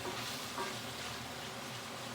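Steady, loud sizzling of beef frying in a pan for stew, a continuous crackling hiss with faint stirring scrapes, no voices.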